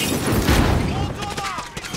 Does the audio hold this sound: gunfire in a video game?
yes